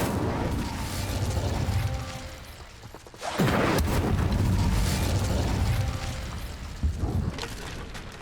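An Incendio fire spell cast in Hogwarts Legacy bursts out as a loud whooshing blast with a sharp onset, then roars steadily for a few seconds over game ambience and mechanical clatter, with a second smaller pop near the end.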